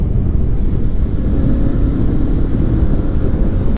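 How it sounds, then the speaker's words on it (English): A loud, deep, continuous Kawasaki Vulcan cruiser motorcycle engine rumble dominated by low throaty exhaust tones, steady and close, heard over constant wind and road noise. "I can still hear the exhaust when I give it to it"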